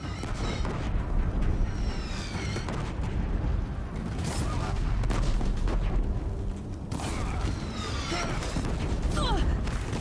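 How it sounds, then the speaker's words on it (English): Deathbringer war machines firing artillery in Horizon Zero Dawn: continuous heavy booms and gunfire-like blasts in a chaotic battle, with mechanical whirs and occasional sweeping tones throughout. "If the Deathbringers keep firing, this bridge will go."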